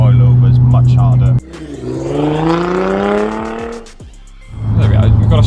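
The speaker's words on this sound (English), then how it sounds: "we've got a straight piped car. We're doing 60 mile an hour, no drone, so you can hear the exhaust" A straight-piped Audi A5 TDI diesel's engine drones and rises in pitch as it accelerates, exhaust note loud and close, with a deep steady hum before and after.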